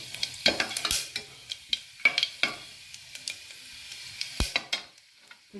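Soft frying sizzle of cashews and spices in a pan, broken by repeated sharp scrapes and clinks of a spoon stirring at an uneven pace.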